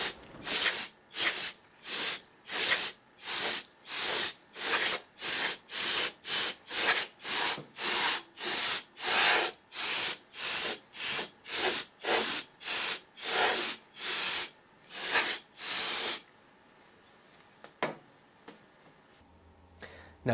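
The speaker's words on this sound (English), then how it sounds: "take your compressed air and blow out the inside of your chassis" Compressed air blasts out the inside of a PC chassis in roughly thirty short, rhythmic hissing bursts, loud and close, followed by a few seconds of near silence with faint clicks.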